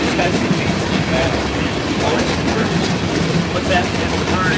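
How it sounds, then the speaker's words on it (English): A Norfolk Southern or CSX freight train passing at Dalton, Georgia, a loud continuous rumble and rattle of railcars with rhythmic wheel clatter, close by, with faint voices talking beneath. "There's the end of that train."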